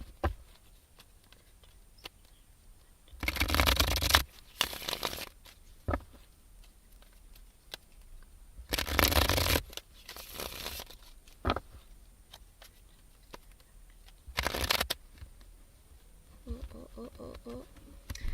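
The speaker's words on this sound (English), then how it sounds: "That's not a proper shuffle." Tarot cards are shuffled in short riffling bursts, loud and close, repeating several times between quieter pauses with occasional talk.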